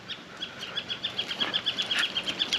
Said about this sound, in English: Here's all these little birds on the posts.